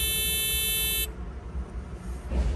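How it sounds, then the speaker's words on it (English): A water level meter lowered into a well gives a steady, loud electronic beep for about a second, then stops, leaving low rumbling background noise. "When I hear the beep, that's when I know where the water level is."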